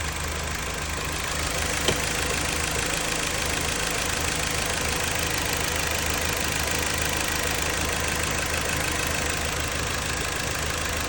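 A car engine with a vacuum leak idles roughly and shakes, giving a loud, steady, close rumble for the whole stretch, with one sharp knock early on and no voices.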